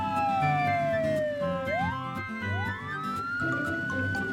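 Police car siren in a children's cartoon, a clear wailing tone that sweeps down, then rises again in repeated swoops over a soft background.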